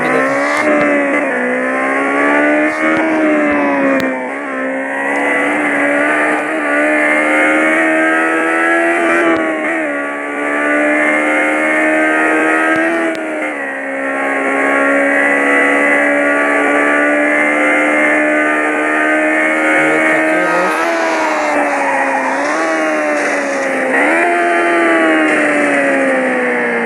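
Simulated car engine from a manual-transmission driving video game, a loud steady droning tone that rises and falls in pitch as gears are shifted, with brief dips between changes.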